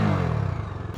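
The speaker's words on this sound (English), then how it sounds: "Let's start this up and listen to the exhaust note. Whoa, quite bassy, to be honest. Let's give it a bit of revs" Deep, bassy exhaust rumble of a Bajaj Dominar 250 motorcycle engine, loud and close, running with a rough pulsing throb over a single short stretch.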